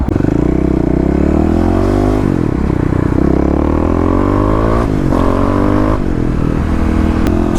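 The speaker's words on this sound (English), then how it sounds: "Put it into stealth mode. Shift up a couple of gears." A Kawasaki KLX351 dual-sport motorcycle ridden on a road, its engine droning loudly and steadily with pitch rising and dropping through several upshifts.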